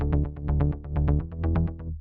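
A driving synth bass from a Pigments patch layering analog and wavetable engines pulses in rapid, steady repeated notes, bright and buzzy, playing alone.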